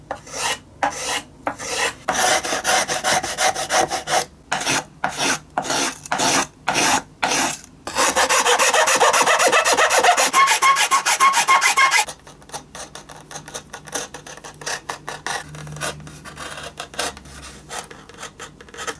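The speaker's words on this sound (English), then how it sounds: "And now I can trim the linings, the part that comes over the ribs" Hand tool rasping and shaving wood while trimming violin linings over the ribs: close, repeated scraping strokes in a steady rhythm, then a long continuous rasp, then softer, lighter scraping.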